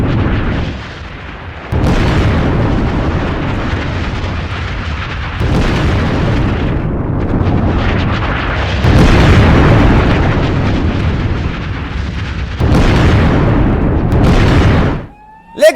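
Repeated loud explosions from Israeli strikes on Hezbollah targets in Lebanon, heavy booming bursts that rise and roll on over several seconds each, coming one after another with no voices over them.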